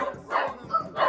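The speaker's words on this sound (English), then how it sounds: "Sorry about the dog." A dog barks in short bursts, giving three or four yappy woofs close by at moderate loudness.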